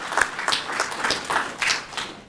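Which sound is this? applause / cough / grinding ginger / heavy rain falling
applause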